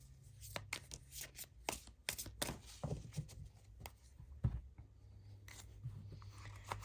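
Tarot cards from the Silver Witchcraft Tarot and Light Seers decks are shuffled by hand, giving close, quiet riffling and slapping bursts in an irregular rhythm with no speech.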